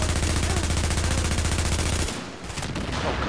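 Rapid automatic fire from a suppressed gun in the video game The Division, a steady, fast stream of loud shots that breaks off near the end, followed by a brief clattering tail.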